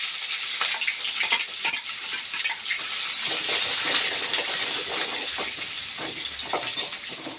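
Onion, red chilli and curry leaves sautéing in a pan give a steady, close sizzle and hiss with scattered small crackles and soft stirring scrapes throughout, no voices.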